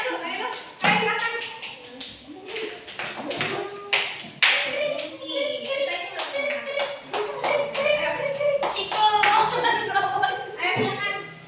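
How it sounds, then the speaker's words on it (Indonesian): Students in a classroom clap for a presenting group, loose, uneven hand claps near the listener with scattered taps, thumps and children's chatter and laughter mixed in. "kasih tepuk tangan dulu kelompok 1"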